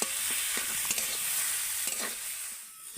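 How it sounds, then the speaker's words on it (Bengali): A spiced potato filling sizzles in a pan with cumin powder added, and a utensil scrapes and stirs it in a few close strokes. The frying hiss stays steady and fades slightly at the end, with no voices. "এবারও আমি একসাথে ভালো করে এইভাবে নেড়ে নেড়ে পুরটা বানিয়ে নেব"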